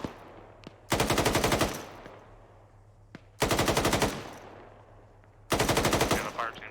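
Three long, loud bursts of rapid machine-gun suppressing fire from a video game squad training session, separated by quieter pauses with faint background noise.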